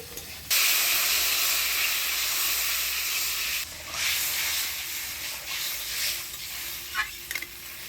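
Water poured into a hot pan of spice paste and potatoes for a Bengali village fish curry, bursting into a loud, sustained steamy hiss that steadies and then flares again near the end.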